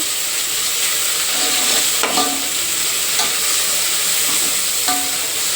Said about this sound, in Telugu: చూసారు కదా ఇదిలా బాగానే ఫ్రై చేసేసుకోవాలి